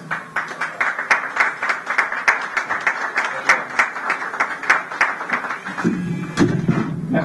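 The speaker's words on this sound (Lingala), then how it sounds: "je vais vous demander de l'applaudir dès qu'il est là" An audience breaks into sustained applause for an arriving artist, crisp overlapping claps with sharp individual smacks, easing into a softer crowd murmur near the end.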